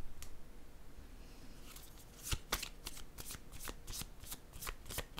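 Tarot cards being shuffled by hand, a run of crisp riffling bursts and slaps that starts sparse and quickens, close and fairly quiet with no talk over it.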